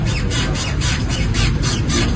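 A worn stabilizer bush on a car that sways while driving gives a continuous, loud squeaking with a faint rhythmic pulse under steady rumbling road noise, and no one talks over it.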